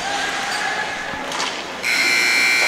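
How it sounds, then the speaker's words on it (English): Arena buzzer at a high school hockey game sounding late in the clip as a steady loud electronic tone, after a stretch of crowd noise and scattered thumps. "The buzzer sounds, and the second period has come to an end."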